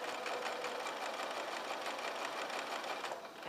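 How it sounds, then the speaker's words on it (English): A sewing machine running a straight stitch on a pettiskirt, with a steady rapid whirring chatter that continues evenly and eases slightly at the end, alone without talk. "just straight stitch sewing"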